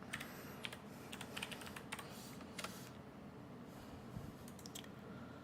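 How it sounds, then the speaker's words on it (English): Light, scattered keystrokes on a computer keyboard as a link is typed, soft and close over a low background hiss, with no voices. "I'm just typing the link here."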